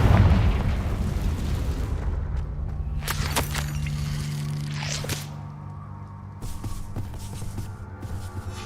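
A Confringo fire spell blast from the video game Hogwarts Legacy: a loud, deep boom at the start that rumbles and fades, followed by sharp cracks and softer crackling.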